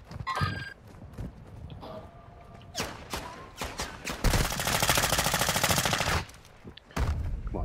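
Gunfire rings out in the Call of Duty DMZ video game: scattered single shots and short bursts, then a long sustained stretch of rapid automatic fire, broken by pauses and mixed with other game noises.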